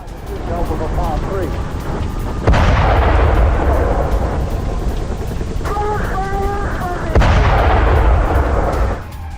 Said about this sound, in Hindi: इजराइल की तरफ से एक बार फिर गाजा में किया गया हवाई हमला।